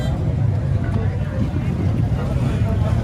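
A 250cc motorcycle engine at a Karachi bike market runs at a steady idle, giving a continuous close, low rumble that never breaks, with faint voices in the background.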